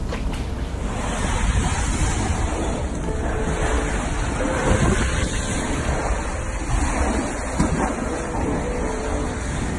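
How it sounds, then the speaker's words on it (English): Hurricane storm surge water beats against a high front room window, a loud, continuous roar of churning water and wind that fills the whole stretch without speech. "That's the water hitting my front room window, which is extremely high."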